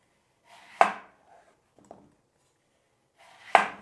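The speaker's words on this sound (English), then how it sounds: "Once you've peeled all the apples, you're gonna slice them very thinly." Knife blade cutting through peeled Granny Smith apples on a board, two sharp thin slices about three seconds apart with a faint small tap between, close and otherwise quiet.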